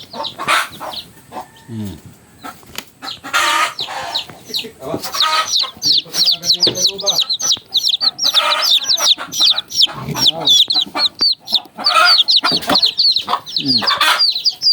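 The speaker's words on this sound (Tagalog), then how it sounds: "Yan ang inahin nitong mga sisiw." A hen clucks repeatedly nearby while her chicks peep in high, rapid chirps throughout, with occasional louder squawks and a voice now and then.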